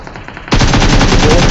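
Gunfire in the mobile battle-royale game PUBG Mobile on the Erangel map, a loud, rapid automatic burst that starts abruptly after a quiet half-second and rattles on evenly to the end.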